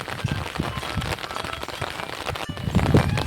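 A fast, rain-swollen river rushes past in a steady, close, hissing roar with scattered splashes, heard at a fishing spot just after heavy rain.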